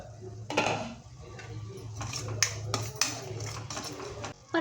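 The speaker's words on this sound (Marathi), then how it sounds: "आता परत झाकण उघडून आपण ढवळून घेऊया" A spoon stirring sprouted moong gravy in a pot with the lid lifted off, metallic scraping and clinks against the pan over a low cooking hiss, with a clank as the lid moves, some speech faint in the background.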